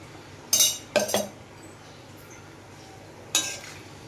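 A spoon clinks and scrapes against a pan while poha with potato and sugar is mixed. There are three short, sharp metallic taps, two close together and one a few seconds later, against a quiet kitchen background.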